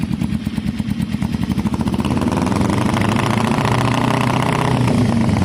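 A Kawasaki cafe racer motorcycle engine runs close by through its exhaust, a low, steady throb that grows slightly fuller and louder partway through, with no voices.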